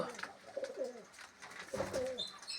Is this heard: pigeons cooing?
yes